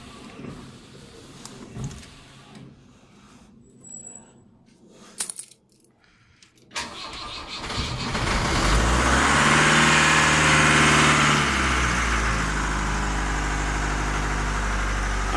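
An old Ford Transit DI diesel van, sitting unused for a year and a half, cranks after a few clicks and knocks, then catches and settles into a loud, steady, rough idle close by.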